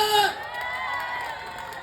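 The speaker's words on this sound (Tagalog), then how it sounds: "Sumigaw ka, pabalakpak ka!" A crowd of young people at a campaign rally in Antipolo lets out a loud burst of shouting and cheering that quickly settles into a sustained, fainter murmur of voices.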